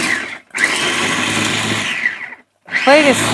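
A Prestige electric chopper runs at full power in two loud, steady whirring bursts separated by a short pause, with a brief voice over the second burst.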